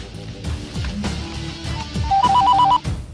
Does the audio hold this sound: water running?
no